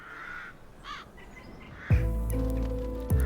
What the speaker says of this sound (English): the music they're singing is replaced by the cawing of the crows today.